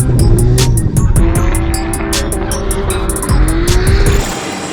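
A Toyota 2JZ engine in a GS300 drift car, fitted with hot turbo parts, runs loud and close just after starting. A rough, aggressive exhaust note rises and falls with sharp, rapid popping and crackling throughout, and no voices are heard.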